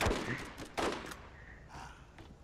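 A sniper rifle fires in the Borderlands video game: a few sharp shots crack out over faint background game sounds, and a last short report comes near the end.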